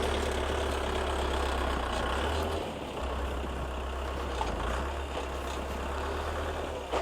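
A tractor engine runs continuously in snow with a low, rumbling drone, fairly close, dipping briefly partway through before carrying on steadily.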